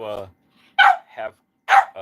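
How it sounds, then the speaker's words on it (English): A half poodle, half cocker spaniel cockapoo gives a few sharp barks, close and loud, spaced about a second apart between short bits of human voice. "He barks at every little whim."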